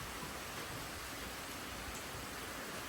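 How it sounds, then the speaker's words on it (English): Rain falls steadily in a dense, even hiss of drops, a constant wash of sound with no breaks and no voices. "It's raining pretty good right now."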